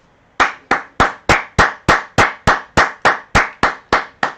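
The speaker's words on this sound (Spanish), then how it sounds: "Vamos a dar un fuerte aplauso, ya que son las 8 por nuestros sanitarios" Fourteen loud, sharp claps ring out in an even, steady rhythm, a deliberate round of applause for health workers, with no talk over them.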